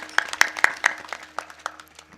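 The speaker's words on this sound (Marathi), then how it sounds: "त्यांच्यासाठी जोरदार टाळ्या वाजवा." At a comedy kirtan performance, an audience claps in a short, sharp burst of about eight distinct claps that thins out and fades toward the end.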